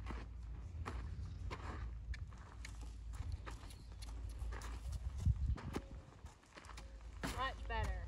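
A horse walks over ground poles, its hooves giving a steady near clip-clop with occasional knocks against the poles, while a person talks throughout.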